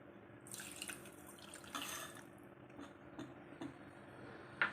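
Water poured into a pan already holding sugar and ghee makes a short, soft splashing pour, followed by faint drips and light ticks in a quiet kitchen.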